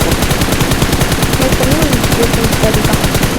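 Rapid automatic gunfire from a shooting video game rattles on continuously and loudly, with dense overlapping bursts and no gaps, while a voice is faintly present underneath.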